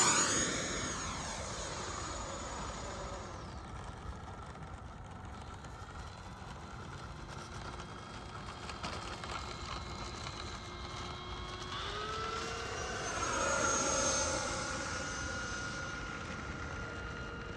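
An FMS Super Scorpion 90mm EDF RC jet on 8S power flies at a distance with a steady ducted-fan roar and whine. Its pitch sweeps down and up again as it makes passes.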